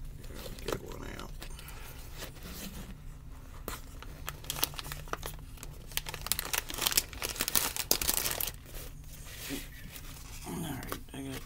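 Plastic freezer bag pulled from its cardboard box, giving close crinkling and rustling that grows busier in the middle, with someone talking at moments.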